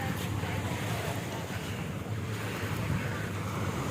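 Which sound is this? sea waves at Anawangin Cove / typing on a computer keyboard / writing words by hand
sea waves at Anawangin Cove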